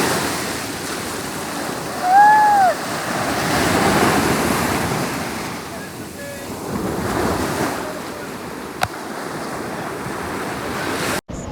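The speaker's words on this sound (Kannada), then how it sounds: "ನೋಡಿ ಎಷ್ಟು ದೊಡ್ಡ ದೊಡ್ಡ ಅಲೆ ಬರ್ತಾ ಇದೆ" Big ocean waves roll in at Pondicherry's Rock Beach, a broad roaring surf wash rising and falling, mixed with gusty wind buffeting the microphone and a faint bird-like chirp early on.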